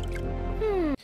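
A splash of DNA dropped into a cauldron in a video game: a wet, dripping plop followed by a bright, bending bloop that slides downward for about a third of a second, then cuts off abruptly.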